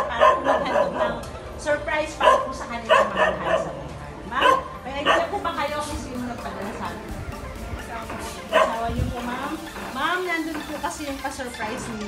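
A dog barks and yips repeatedly near a doorway during a home visit, sharp bursts spaced across the first half, while people talk and chuckle throughout.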